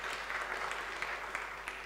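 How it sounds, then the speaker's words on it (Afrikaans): Church congregation clapping for two small boys during a Sunday service, soft and fairly distant, a steady patter of hands with a few sharper claps. "nou kan ons regtig vir julle hande klap"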